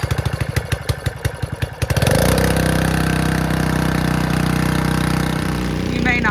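Small engine on a portable water trailer pump is cranked with a series of rapid pull-start chugs, then catches and settles into a loud, steady running drone close by.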